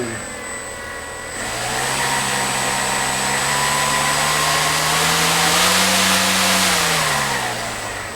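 A small electric motor spins the propeller of a DIY pool-noodle RC trainer airplane, a close whining buzz that swells as the throttle comes up and then holds at a steady higher drone before easing off slightly.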